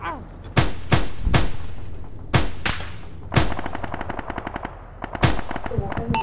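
Rapid bursts of gunfire crack out in the video game ArmA, several loud sharp shots with one quick automatic volley in the middle, and low indistinct voices beneath.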